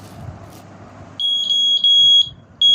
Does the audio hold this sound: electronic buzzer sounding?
yes